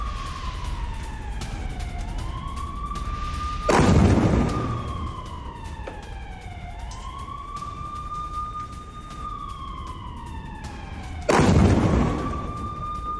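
Missile attack explosions striking residential areas of Tel Aviv, two loud booms landing several seconds apart while wailing air-raid sirens rise and fall continuously in the background.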